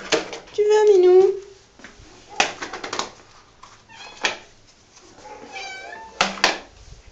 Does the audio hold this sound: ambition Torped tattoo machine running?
no